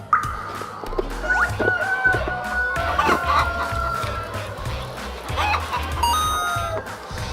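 Hens cluck and squawk in a large egg-laying barn, with several birds calling close by over a busy background clatter and occasional short chimes.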